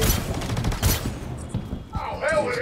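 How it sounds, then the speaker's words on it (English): Gunfire in the video game Star Citizen, with quick bursts of game shots mixed under excited voices talking over each other, followed by softer electronic game sounds. "Yeah, I shot him right as you did."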